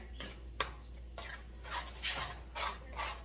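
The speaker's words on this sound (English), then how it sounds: "And we mix that into this cheese sauce." Smoked salmon being stirred into a cheese sauce in a pot, with soft scraping and stirring strokes repeating at a slow, uneven rhythm, close and fairly quiet, with no talking.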